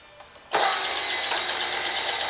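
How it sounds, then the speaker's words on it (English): A Bridgeport milling machine with a J-head belt drive starts up and runs at its slowest speed, a sudden onset followed by a steady mid-pitched motor whir and hum with a faint high whine, close and alone. "that's as slow as the Bridgeport belt drive runs with a J head here"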